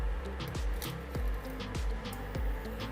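An induction cooktop heating water emits a quiet steady hum with a repeating rhythmic clicking pulse about every half second, faint and alone without talk.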